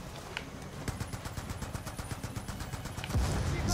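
Mounted gun turret fired at ships in Call of Duty Black Ops 2, a steady rapid run of close, punchy shots with a heavier boom near the end.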